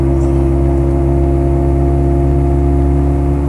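A Land Rover 90 County idles with a steady, loud low drone, its engine note exciting a constant buzzing resonance from the wipers that holds unchanged throughout.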